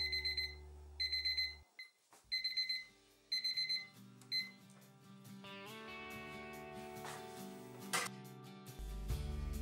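Kitchen timer alarm going off after a 90-minute cheese-making wait, sounding in repeated bursts of bright electronic beeps before music takes over.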